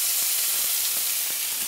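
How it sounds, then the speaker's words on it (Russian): Meat searing in a smoking-hot frying pan, a steady loud sizzle and hiss with faint irregular crackles and pops throughout. "Как только кастрюлька, вернее сковородка задымилась, пора туда отправлять кусок мяса."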